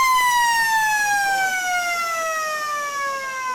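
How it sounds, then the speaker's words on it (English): A long half-time siren wails at a country football ground during a Riverina AFL seniors match between the Lions and Hoppers, a loud sustained tone sliding slowly downward in pitch. "There's the siren, half time here at Gammain Sports"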